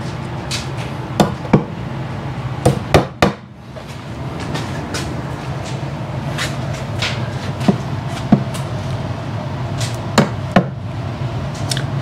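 Tacks are hammered to stretch a beaver skin on a wooden board: scattered sharp taps and knocks, some in quick pairs, over a steady low background hum.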